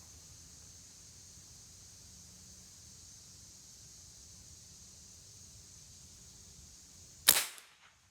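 A Kral Puncher Jumbo .22 air rifle fires a Crosman Premier pellet once, a single sharp crack near the end after several seconds of quiet background hiss.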